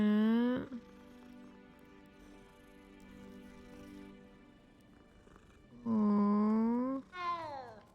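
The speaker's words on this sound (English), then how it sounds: "But look at this kitty." A cat in Hogwarts Legacy gives two loud, drawn-out meows, one at the start and another late, with a quieter hum of game ambience in between.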